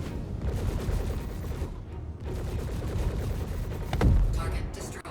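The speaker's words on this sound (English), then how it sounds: "That explosion was really big." Large explosion of a Mark 1 Hornet spaceship in Star Citizen combat, a heavy boom swelling near the end over continuous rattling gunfire and game noise, with talk beneath.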